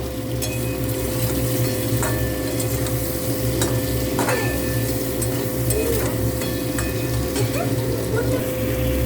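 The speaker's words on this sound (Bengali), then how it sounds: "এবার এটা একটু সুন্দর করে নেড়ে চেড়ে জল ফুটিয়ে রেখেছি" Pumpkin and rohu fish curry being stirred in a pan, a steady bubbling sizzle with scattered utensil scrapes and clinks, close and continuous with a constant background hum.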